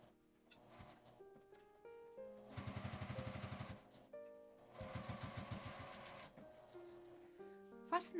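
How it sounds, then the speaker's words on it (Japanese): Sewing machine stitching a 1 cm seam allowance around a fabric medicine-notebook pouch, running in two loud, fast rhythmic bursts of stitching separated by pauses with light handling noise. "返し口を開けて1センチの縫い代で縫います。"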